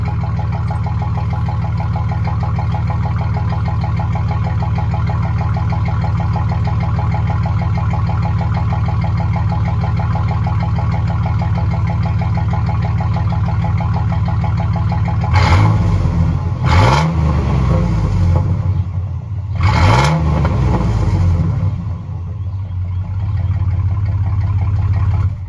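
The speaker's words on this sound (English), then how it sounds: "I'm gonna rev it up a little bit so you can hear what it sounds like" A 2006 Chevy Silverado 1500 long bed with a freshly replaced muffler idles with a steady low exhaust drone, then gets revved in three quick, loud throttle blips near the end before settling back to idle.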